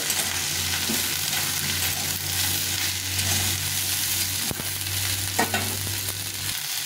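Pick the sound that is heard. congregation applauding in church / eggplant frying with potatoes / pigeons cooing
eggplant frying with potatoes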